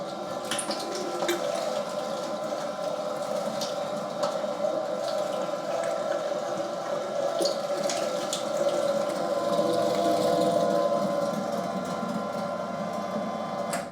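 Meat grinder mincing meat coarsely for Spanish bratwurst, a steady close mechanical whir and churn with a constant motor hum and occasional soft clicks, running continuously without a pause.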